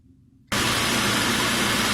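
A car runs with one wheel spinning freely and traction control switched off, kicking in abruptly after a half-second of near silence as a loud, steady broadband rush and hum that continues to the end.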